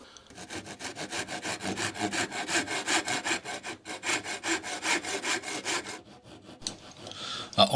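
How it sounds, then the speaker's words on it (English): Half-lap dovetail joints for a wooden photo frame are cut with a miter saw, giving rhythmic back-and-forth rasping strokes, close and fairly loud, for about six seconds before stopping. "how much better it was using the miter saw instead of the actual dovetail saw"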